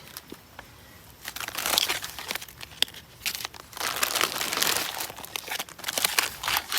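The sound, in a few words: crinkling a plastic bag of jerky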